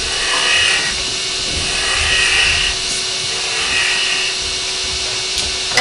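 A wood lathe spins while a spindle gouge takes a shear cut on a turning, making a steady close whirring hum with a smooth scraping hiss that swells and eases in long passes.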